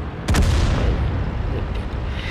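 A tank cannon shot from the E 25 in a tank video game, one sharp loud boom followed by a long rumbling roar that fades slowly.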